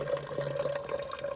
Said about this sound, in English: And then we're gonna pour that into our keg.